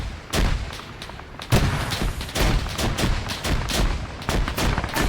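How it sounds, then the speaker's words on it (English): Anti-aircraft guns fire in Arma 3 during a battle with aircraft overhead, sounding as loud, repeated booming bursts in an irregular rhythm that carries on through the whole stretch, with no talk over it. "AA's firing off again."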